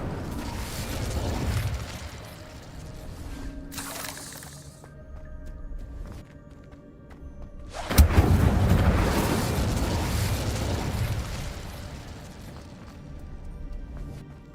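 An Incendio fire spell erupts in Hogwarts Legacy, a loud fiery whoosh and burst with crackling, surging again in a heavy roaring blast midway and trailing off into rumbling effects.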